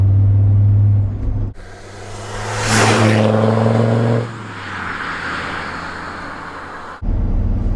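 A Stage 3 tuned Land Rover Discovery 2 accelerates hard, its engine droning loud with a rising whir as the pitch climbs, then easing off to a steadier hum before the drone returns, heard from inside the vehicle.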